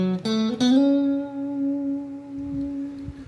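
Guitar from a song intro: two quick picked notes lead into a long sustained note with gentle vibrato, ringing alone and slowly decaying.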